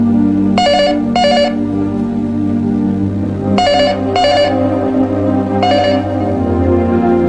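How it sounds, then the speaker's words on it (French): A telephone rings in repeated double bursts of bright electronic trills, three rounds spaced a couple of seconds apart, loud over a sustained low musical drone. "Diana n'entend pas la sonnerie du téléphone"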